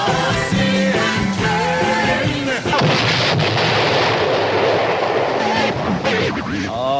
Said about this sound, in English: there it goes again, ladies and gentlemen. Oh, what a shame. The magic cannon.